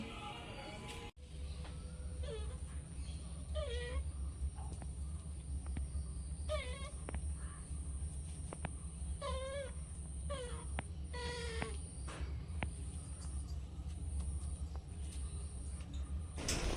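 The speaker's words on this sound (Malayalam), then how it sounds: "ഇവിടെ പ്രസവിച്ച പൂച്ചക്കുട്ടികളായിട്ടോ" Several thin, high mews from newborn kittens repeat irregularly, fairly faint, over a constant low hum.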